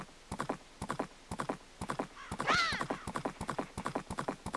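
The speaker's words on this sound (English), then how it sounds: "So let's go ahead and just ride around on our horse" A horse ridden in Zelda Majora's Mask on the N64 gallops in quick, even clip-clop hoofbeats, with one bright neigh midway, loud and close without any voices.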